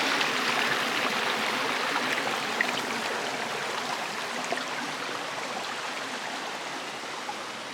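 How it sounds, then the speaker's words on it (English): Water flows steadily over rocks in Screwdriver Creek, about 4 miles from the McCloud River, a continuous close babble with small splashes, no voices. "This is Screwdriver Creek."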